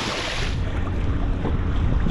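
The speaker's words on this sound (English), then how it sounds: "The wind's kind of stable at like 10 miles an hour, but then these 20 mile an hour gusts come" Strong wind gusting over the microphone while fishing from a boat on the James River, a loud, steady rumbling roar with no voices.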